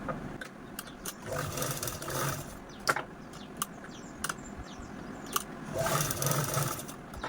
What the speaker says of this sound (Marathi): ह्या कडे कडेने आपण अगोदर स्टिच करून घेऊ